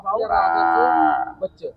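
A Khillar cow gives one long, loud, close moo of over a second, followed by two short soft grunts, with no talking over it.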